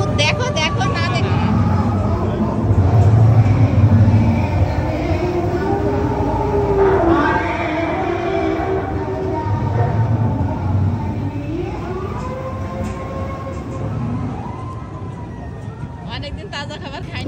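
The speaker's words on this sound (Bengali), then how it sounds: "আমরা কেইভ ট্রেনে ঘুরে এলাম ভূতের বাড়ি থেকে। এটা আসলে ঝিনাইদহ ড্রিম ভ্যালি পার্কের ট্রেন রাইড।" An amusement park cave train ride through a haunted-house attraction at Jhenaidah Dream Valley Park rumbles steadily for a long stretch, mixed with wailing, siren-like effects and a babble of riders' voices.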